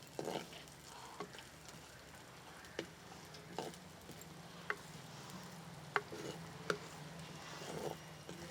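Soft, quiet sizzling of coconut pieces frying in ghee, with a few sharp clicks and taps from stirring scattered through.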